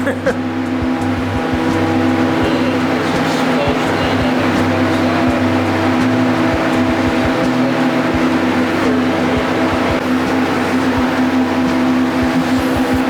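A tuned, semi-stock Corvette engine runs loud and steady outdoors, a deep droning exhaust with harmonic hum and sharp rev pulses throughout, close by and dominating the scene.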